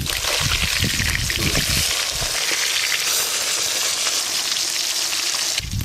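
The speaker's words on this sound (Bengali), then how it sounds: "মাছের পিসগুলো খুব ভালো করে লাল লাল করে ভেজে নেব।" Pieces of catla fish sizzle steadily in hot oil in a pan, a loud continuous crackling fry with no voices, running close up for about six seconds.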